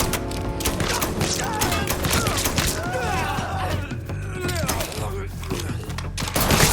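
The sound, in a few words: gunfire in the video game Mafia 3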